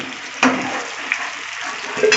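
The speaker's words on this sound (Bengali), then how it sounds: "আলুগুলো লাল লাল করে ভেজে নিচ্ছি আমি।" Potato pieces sizzling in hot oil in a pan, a steady fry with a couple of sharp clinks of a utensil against the pan.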